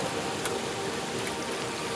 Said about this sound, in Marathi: पाऊस आता थोडा कमी झालेला आहे